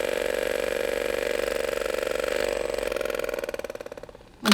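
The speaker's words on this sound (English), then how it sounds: "attach the pebble device and watch all the moisture being spun out of the sponge" An electric makeup sponge cleaner spins a damp sponge, giving a steady close-up motor whir that runs for about four seconds, then fades and ends in a brief clatter as it stops.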